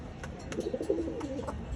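Pankhi pigeons in a loft give a soft, low cooing phrase that rolls up and down in the middle of the clip, over faint room noise and scattered rustles.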